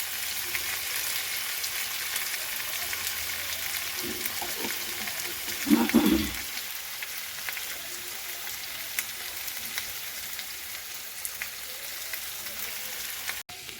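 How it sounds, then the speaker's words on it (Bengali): Potatoes and spice masala stir-frying in a pan, a steady close sizzle throughout, with a brief louder burst of scraping and stirring near the middle. "আলু দিয়ে মশলাটাকে ভালো করে কষিয়ে নেব।"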